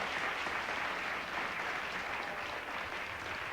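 Studio audience on a daytime talk show applauding steadily, a dense, even wash of clapping that holds at full strength for several seconds with no voices above it.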